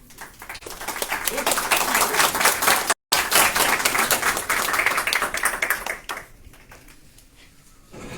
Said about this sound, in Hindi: सबसे पहले अपने लिए ताली बजा देंगे सारे